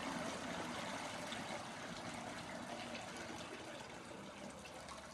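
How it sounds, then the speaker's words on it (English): Home-brewed beer steeping liquid poured from the pot through a filter after the grain is strained out, a soft continuous trickle and splash that runs unbroken at low volume and fades slightly toward the end. "we are now going to pour the steeping liquid"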